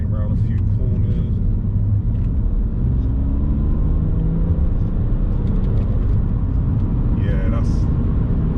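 A stage 2 tuned 350 hp BMW 330d LCI E90 M Sport with a six-speed manual takes a few corners, a steady low diesel rumble and road roar heard from inside the cabin while someone talks over it.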